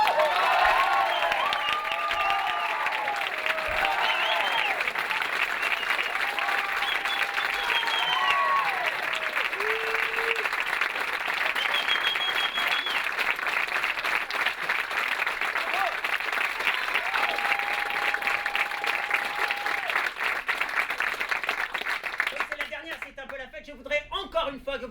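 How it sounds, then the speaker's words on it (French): A theatre audience applauds loudly and continuously, dense clapping over scattered cheers and voices, before the applause fades out at the end. "Je voudrais encore une fois que vous applaudissiez François Lys, le metteur en scène qui vient"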